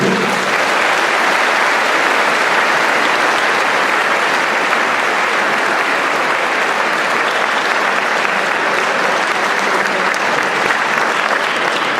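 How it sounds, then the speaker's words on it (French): Dense, steady applause fills a hall on the opening night of the Brussels Film Festival 2013 as Bertrand Tavernier is welcomed, loud and continuous from start to finish. "Vos applaudissements s'il vous plaît, Monsieur Bertrand Tavernier"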